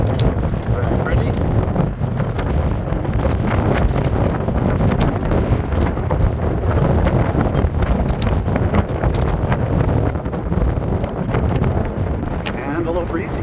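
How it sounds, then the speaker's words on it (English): Steady wind buffets the microphone while cycling past a reservoir on a long-distance randonneur ride in New England, a constant loud rushing roar with brief clicks and knocks. "And a little breezy."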